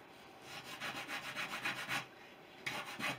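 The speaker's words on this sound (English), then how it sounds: "I'm just going to a small block, some 120 grit on it, I can" Small sanding block with 120 grit paper rubbed over the wooden surface of a model aircraft's landing gear, giving a rapid run of short rhythmic scrubbing strokes, a brief pause, then a few more close strokes.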